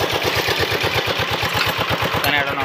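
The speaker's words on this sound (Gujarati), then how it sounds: "સનેડાનો બહુ અવાજ આવે છે" Farm tractor engine (sanedo) running steadily close by at sowing time, a loud, rapid rhythmic diesel chugging with a clattering pulse throughout.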